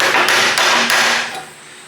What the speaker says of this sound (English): There's my hammer.